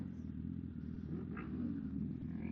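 A motorcycle passes on a city street near a station, its engine rumbling at moderate distance in a steady drone over traffic noise.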